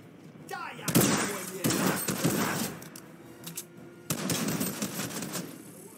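Several loud, sharp bursts of gunfire crack out near the vault in a video game, in clustered volleys with short gaps, under and between a player's talk.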